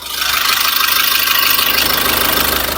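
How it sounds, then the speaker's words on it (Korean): Close, loud SsangYong Rexton Sports Khan engine idling with the hood open, a smooth, steady low rumble and a faint rhythmic pulse throughout. "마지막으로 중요한 엔진 사운드 확인해 드릴게요"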